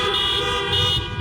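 Car horns honk together at an outdoor political rally in Helena, Montana, a sustained chorus of several overlapping tones held steadily through the moment, loud and continuous with crowd noise beneath.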